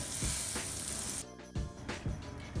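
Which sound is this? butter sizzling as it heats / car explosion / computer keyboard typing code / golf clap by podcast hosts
butter sizzling as it heats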